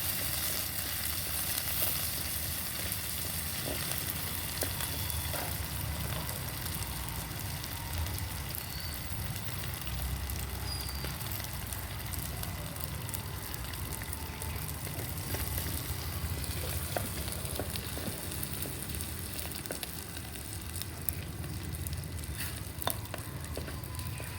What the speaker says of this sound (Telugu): ఆవాలు జీలకర్ర ధనియాలు మినపప్పు శనగపప్పు ఇది కూడా బాగా ఫ్రై చేస్తాను